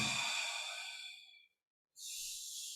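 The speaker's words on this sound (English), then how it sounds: "breathing out." A slow exhale during a breathing exercise, a breathy rush that fades over about a second and a half, followed after a brief silence by another soft airy breath.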